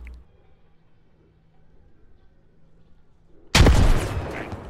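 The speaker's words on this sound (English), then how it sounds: "Grenades going into the building." A heavy grenade blast inside a building in the game Squad, one sudden loud boom that follows a quiet stretch and rumbles away.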